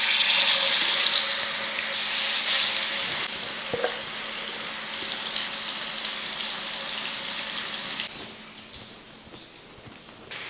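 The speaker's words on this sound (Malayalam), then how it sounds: "നേരത്തെ വറുത്ത് വെച്ചിരിക്കുന്ന പോലെ തന്നെ ഒന്ന് വറുത്തെടുക്കുക." Steady, close crackling sizzle of fish frying in hot oil, continuous throughout, easing slightly toward the end.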